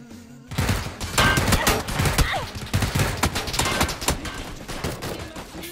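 A burst of rapid gunfire rings out in the video game PUBG, with dense overlapping shots and sharp cracks that carry on for several seconds after a brief quiet start, loud and busy, with no speech over it.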